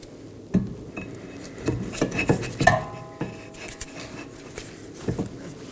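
Metal clunks and scrapes as a brake caliper and bracket are slid over the rotor on the rear knuckle of a 2018-2024 Chevrolet Equinox, several close, sharp knocks spread across the moment.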